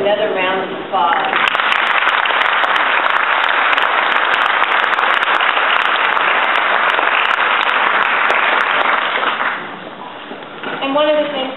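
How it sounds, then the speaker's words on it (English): Audience applause for a Holocaust survivor speaker, a dense, steady wash of many hands clapping for about nine seconds before thinning out, with a voice speaking briefly at the start and again at the end. "Let's give her another round of applause."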